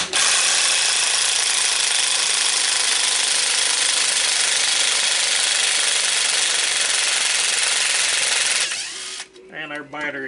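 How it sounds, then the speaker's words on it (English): A cordless impact driver removing bolts while a Stihl 066 MS 660 chainsaw is torn down, hammering steadily and loudly for about nine seconds at close range before it stops abruptly and a voice follows. "get yourself an impact driver"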